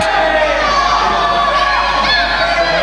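A wrestling event crowd fills the hall with loud, dense cheering, whooping and shouting mixed with applause, steady and close throughout.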